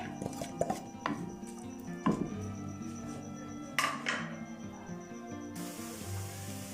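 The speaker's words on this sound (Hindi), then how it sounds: "घी में हम प्याज को ब्राउन होने के लिए डाल देते हैं।" Onions frying in ghee in a hot pan, a steady sizzling hiss broken by clinks and scrapes of a utensil against the pan.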